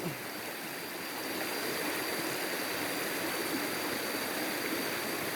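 Water pours over rocks at a waterfall on river rapids, a loud continuous broadband rush that swells slightly and holds steady, close and enveloping.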